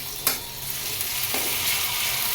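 Chopped onion frying in a hot pan gives a steady broadband sizzle throughout, with a couple of brief stirring scrapes near the start and middle; no talking.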